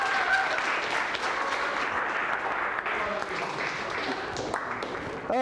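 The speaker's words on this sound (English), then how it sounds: "Give him a round of applause." Sustained applause from a seminar audience welcoming a participant, dense and steady throughout with a few scattered voices mixed in.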